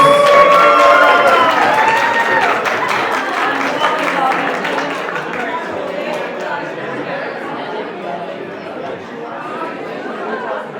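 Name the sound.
audience applause for a couple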